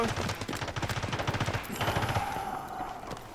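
Rapid automatic gunfire in the video game Delta Force, a fast burst of close, punchy shots for about a second and a half, then a ringing tail and fading ambience.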